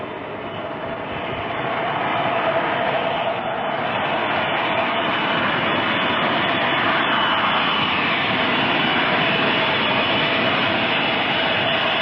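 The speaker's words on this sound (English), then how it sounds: "On Air India's Boeing 707, flight" The jet engines of an Air India Boeing 707 on flight AI-1068 give a steady, muffled cabin roar that swells over the first seconds and then holds constant and loud, with no voices.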